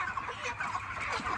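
Broiler chickens cluck in a short nearby burst while being collected from a seller, with soft overlapping calls and no talk.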